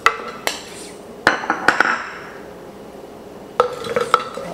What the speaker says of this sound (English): So I have my fruit frozen here, and I'm simply going to add it to my blender